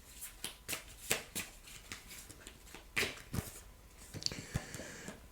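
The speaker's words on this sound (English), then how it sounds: "I'm going to pick out one card for guidance for August 2024." Tarot cards are shuffled and handled while one is picked out, giving a series of soft papery flicks and riffles at an irregular pace, close and fairly quiet.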